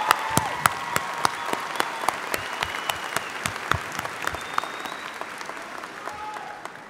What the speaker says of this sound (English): Let's give another round of applause to one of the biggest graduating classes of Molina High School